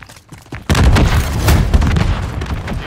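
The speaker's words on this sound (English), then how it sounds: "Place the charge, detonate the target." A bomb charge detonates in a Call of Duty hardcore search-and-destroy match, a sudden loud boom after a short quiet lead-in, followed by rumbling gunfire-like blasts that keep going.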